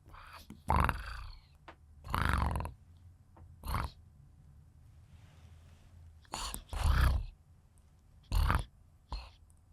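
A person tries to imitate a cat's purr with several short, rough throaty bursts separated by pauses, close to the microphone.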